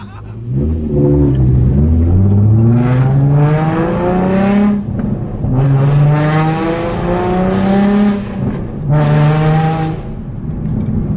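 A Nissan 350Z with a loud Tomei exhaust revs repeatedly, rising in pitch with each surge and dropping back between pulls, close and powerful.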